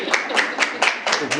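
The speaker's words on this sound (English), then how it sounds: "You can clap." A small audience claps at a town hall livestream, a brief patter of several distinct claps spread unevenly across a second and a half, fairly close and fading quickly.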